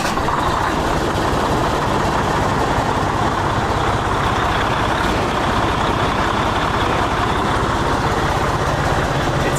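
A heavy diesel engine idles steadily and loudly up close, a continuous low rumble with no voices.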